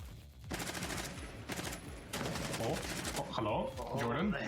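Gunfire in a competitive shooter video game during a women's league match, with rapid repeated shots in bursts, loud and close, layered with other game effects.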